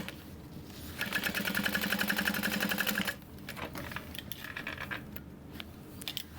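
A sewing machine stitches a seam on a Wade backpack, running in a fast, even mechanical whir for about two seconds, then stopping, followed by softer handling noises and brief quieter bursts.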